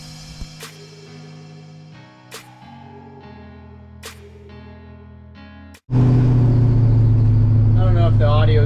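Inside a loud workshop, a Chevrolet C10 truck engine is driven onto a lift for transmission removal. After several seconds of quieter tonal sounds, a loud, close engine rumble bursts in abruptly and holds steady to the end.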